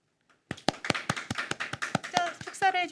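Audience clapping after a closing address at a youth unification vision seminar, a burst of sharp, separate claps that thickens into scattered applause at moderate distance, with a voice briefly heard over the end.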